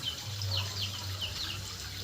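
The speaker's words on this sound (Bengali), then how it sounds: "এই যে দেখো ঘর থেকে জল বেড়াচ্ছে" Floodwater pours out of a flooded house in a soft, steady rush, heard faintly at a distance, with a few brief bird chirps over the flow.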